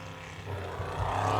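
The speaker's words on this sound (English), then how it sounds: "The Hurricane out of the Gold Coast Powerboat and Sports Club with Graham Malloy behind the wheel" Hurricane, a racing powerboat from the Gold Coast Powerboat and Sports Club, passes the start-finish line in an E C Griffith Cup heat on a lake. Its engine gives a steady, loud low drone that swells slightly toward the end.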